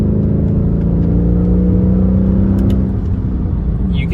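A Mercedes C55 AMG engine growls under load while driving, a deep steady drone that swells slightly as the revs rise, close and loud with no talk.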